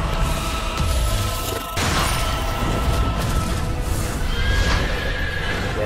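Horse neighing in a Soulcalibur VI fantasy fighting-game trailer, a loud whinny set against a dense, booming cinematic score that runs through the whole stretch, with a brief dip partway in.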